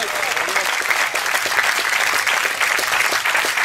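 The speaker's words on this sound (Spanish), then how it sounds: "Dele fuerte ese aplauso si es para Dios." Steady, dense applause from a church congregation fills the space, loud and continuous throughout with no pauses.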